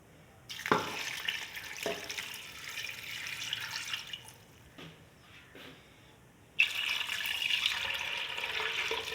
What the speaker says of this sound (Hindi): एक गिलास और पानी डाल दिया मैंने।